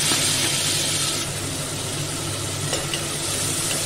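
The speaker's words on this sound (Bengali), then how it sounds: "এবার ওই তেলেই আমি কালো জিরে ফোড়নে ব্যবহার করব। তার মধ্যে আমি মশলাটা করে রেখেছিলাম, মশলাটা সব ফেলে দিলাম।" A spice paste hits hot oil tempered with nigella seeds for a catla fish and eggplant curry, bursting into a loud, close sizzle that eases slightly and continues with faint stirring clicks.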